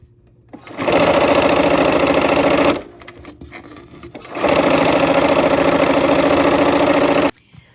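A sewing machine stitches a quilt seam. It makes two sustained loud runs of rapid stitching, and a short pause between them comes as the work is adjusted.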